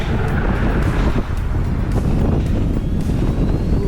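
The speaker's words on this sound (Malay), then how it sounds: "Angin kuat" Strong mountain wind at high altitude roars steadily into the microphone while cycling, a dense low rumble with gusty buffeting throughout and no voices.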